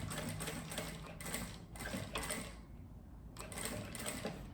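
A sewing machine runs the final seam on a fabric pouch, close and fairly quiet, in several short bursts of rapid stitching separated by brief pauses.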